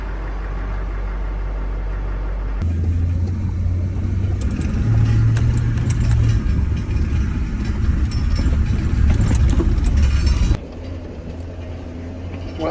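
2005 LLY Duramax diesel truck engine idling after a no-start problem: a steady low diesel rumble that starts abruptly, holds for several seconds with a faint clatter on top, then drops back to a quieter hum.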